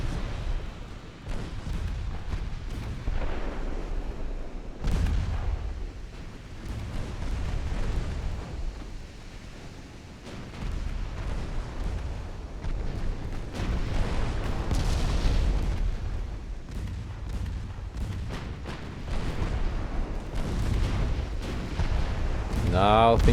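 Torpedo strikes on a warship in a naval battle game, heavy booming explosions that rumble and roll one after another, with continuous low thunder of combat underneath and someone talking over it.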